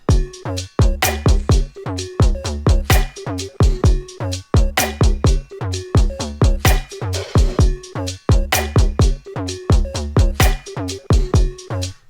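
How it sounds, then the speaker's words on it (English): Distorted synth lead chopped into a melody, a loud run of short, punchy stabbed notes in a rhythmic pattern over low bass hits, with no voices. "So that was the distorted synth chop"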